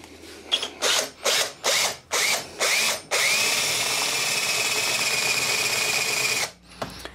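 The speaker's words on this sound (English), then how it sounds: "So now we can go through with the big drill bit." Power drill with a big bit drilling through metal lubricated with WD-40, several short whirring bursts followed by a long sustained high-pitched grind, then a sudden stop and a faint final whir.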